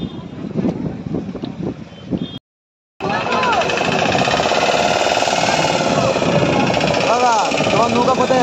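A boat engine drones steadily at sea near Talsari, loud and continuous after a short gap, following a stretch of people talking with faint mechanical noise beneath.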